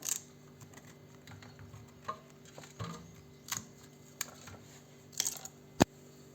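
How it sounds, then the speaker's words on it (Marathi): Knife chopping sour raw green mango into small pieces on a board, with quiet scattered taps and sharp clicks at irregular intervals over a low steady hum. "तर हा आंबा मी आता सर्वात आधी कापून घेते. कापून त्याचे छोटे छोटे तुकडे करायचे."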